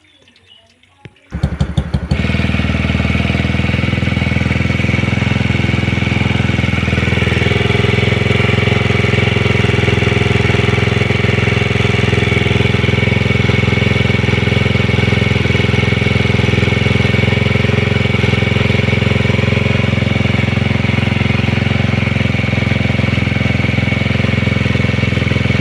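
After a brief crank, a motorcycle-type engine with an exhaust that had been backfiring fires up and runs loud and close, holding a steady rough idle with a dense, throbbing drone.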